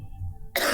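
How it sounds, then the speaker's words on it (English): A person coughs after choking on smoke that went down the wrong way, a short harsh burst near the end following quieter breathing and throat noise, close and loud. "I was coughing bad."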